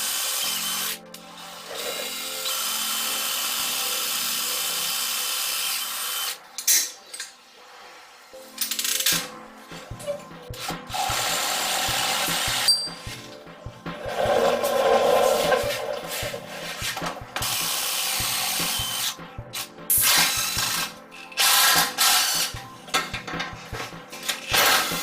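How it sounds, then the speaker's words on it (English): A power drill bores a pilot hole and then a full-size 7/16-inch hole through car body metal, in repeated bursts of whining drilling separated by pauses and small tool clatter, with no talk. "then you're going to drill out where the other two holes are. So I'm going to start with the pilot hole and then go up to the full size 7/16."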